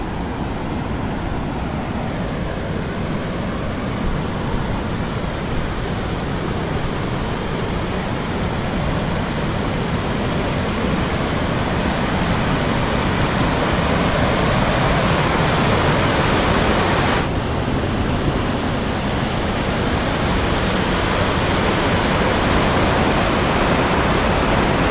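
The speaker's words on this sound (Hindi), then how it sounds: "क्योंकि यहाँ पर पानी बह रहे हैं" Steady broadband rush of water flowing over red rocks at an outdoor picnic spot, loud and continuous like a stream or small fall, with no voices over it.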